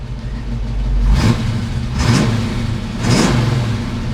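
A car engine fitted with Holley EFI, a Holley Terminator system, revs up three times in steady, evenly spaced bursts over a low running rumble, close and loud with no talk.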